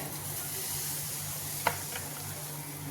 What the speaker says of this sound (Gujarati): સાઈડમાંથી રેડવાનું છે આવી રીતે આખા તવામાં બેટર ફેલાવી દેવાનું છે